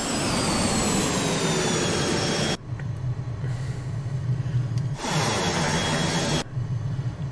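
Steady, loud roar of the Cockspur C510 Mustang business jet's engines in Microsoft Flight Simulator, dense and unbroken at first, then cutting between near and muffled cabin-like levels in distinct sections.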